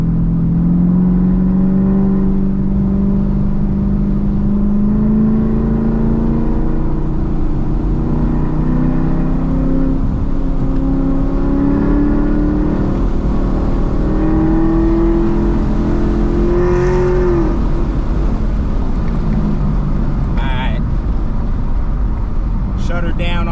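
A Procharger-supercharged car engine revs while driving, a loud continuous drone with rising pitch sweeps and a supercharger whine, heard from inside the car with occasional clicks near the end.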